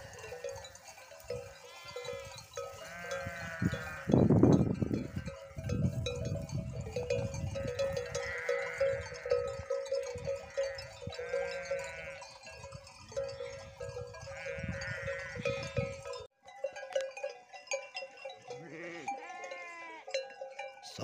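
Sheep bleat repeatedly, several animals calling near and far over a quiet outdoor background, with a faint bell clinking among the flock.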